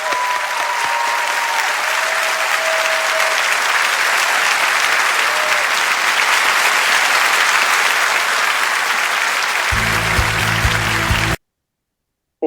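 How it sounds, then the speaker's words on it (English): A lecture audience gives a long, dense round of applause, steady and full for several seconds before it stops abruptly. "give yourselves a round of applause."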